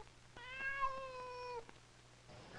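A cat gives a single clear, drawn-out meow that falls in pitch at the end, moderately close over a low steady hum, with quiet background noise afterward.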